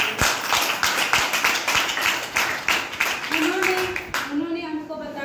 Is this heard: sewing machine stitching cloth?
no